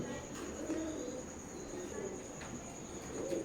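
Soft, low cooing from a young Omani bloodline Teddy pigeon repeats several times over a steady insect-like hiss and faint background noise.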